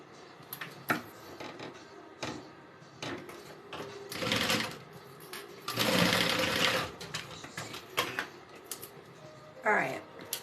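A sewing machine stitches a zipper onto a denim backpack in short, fast bursts of rapid mechanical whirring, with pauses between runs, soft handling noises and a quiet voice talking at times.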